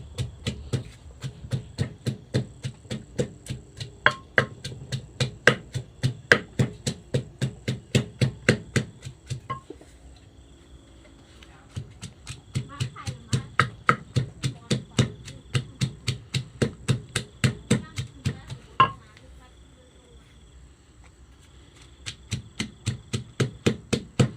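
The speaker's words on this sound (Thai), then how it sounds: "โอเคก็ตำไปเรื่อย ๆ นะครับ" Steady pounding of a mortar and pestle as a Thai dipping sauce for steamed tilapia is crushed, with rapid rhythmic thumps in long runs separated by short pauses.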